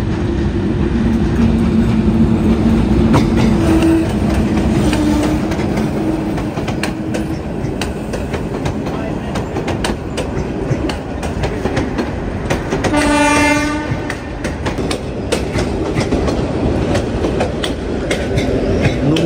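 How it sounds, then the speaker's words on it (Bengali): A Ramna local train rolls into a station through winter-morning fog: a loud, steady rumble of wheels and carriages with clickety-clack, and a long horn blast midway, with no voices. "কুয়াশা ভেদ করে ট্রেন চলে আসলো।"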